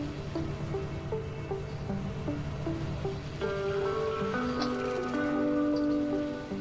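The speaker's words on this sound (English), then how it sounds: "it's pouring down with flipping rain" Heavy rain in the Surviving Mars video game on the Central Plateau map, a steady dense hiss of downpour running throughout under layered sustained music tones, with no talking.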